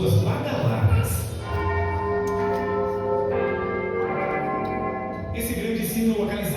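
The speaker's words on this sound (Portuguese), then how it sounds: "Parada obrigatória em Londres, o famoso Big Ben, encanta qualquer pessoa por sua beleza, sua história e suas badaladas." Big Ben, the great bell inside the Elizabeth Tower in London, rings out in loud, resonant chimes that ring on and overlap, with further strikes following as the tones decay.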